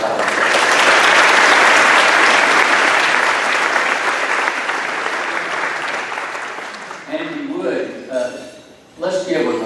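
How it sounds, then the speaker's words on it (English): A crowd at a chamber of commerce luncheon claps loudly and steadily, the applause fading out toward the end, followed by a few brief voices. "so if you would, please give a round of applause to Turner Powell."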